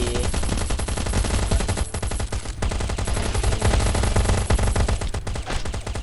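Loud, nearly continuous rapid-fire automatic gunfire in the survival shooter Last Day Rules Survival, dense bursts packed tightly together with only brief dips in the barrage.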